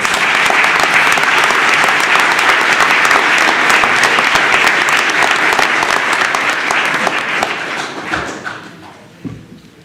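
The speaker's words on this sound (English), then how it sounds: "let's give them another round of applause" An audience at a school board meeting applauds, steady, loud clapping from many hands that fades out near the end, with a few thumps.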